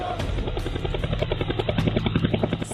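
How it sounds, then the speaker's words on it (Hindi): An Indian Air Force helicopter flies over the hills near Leh, its rotor beating in a steady, rapid chop under a loud, continuous engine drone that fills the whole stretch. "सुबह सुबह लेह की पहाड़ियों में इंडियन एयरफोर्स के हेलीकॉप्टर में सवार होकर प्रधानमंत्री मोदी पहुंच गए।"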